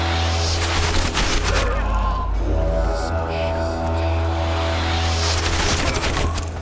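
Gunfire rattles through a Witcher 2 battle, dense volleys over a constant loud backdrop of game music and combat noise, with bursts swelling near the start and end.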